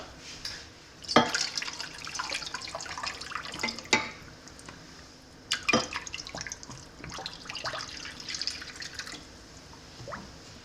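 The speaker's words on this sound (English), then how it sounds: "we're gonna fill this with the hottest tap water I have up to about halfway" Hot tap water running into a baking pan in a home kitchen while making brownie pudding, a quiet trickle and splashing with irregular drips and a few sharper splashes, no talking.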